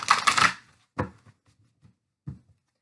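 Tarot cards rustle in one brief close shuffle, followed by a few soft taps and card clicks trailing off into near silence.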